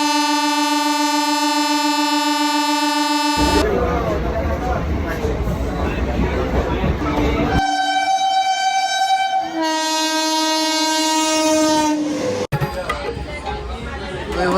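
At a railway station, loud, long blasts of a train horn sound close by, separated by rumbling rail noise and faint background chatter.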